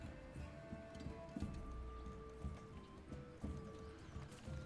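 Horse hooves clip-clop in a steady plodding rhythm within the medieval strategy game Manor Lords, faint and mixed with soft ambient game sounds and a light rain-like patter.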